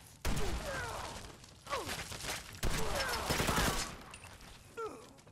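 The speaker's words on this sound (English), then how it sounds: "It's a bunch of shooting." Bursts of automatic gunfire from the video game Fallout 4 come in several loud volleys with brief gaps between them, with other game sounds mixed in.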